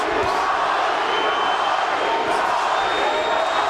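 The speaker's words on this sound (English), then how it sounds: "The crowd chanting Paulie" A boxing arena crowd chants the name Paulie during a bout, a dense, continuous roar of many voices filling the space at a steady level throughout.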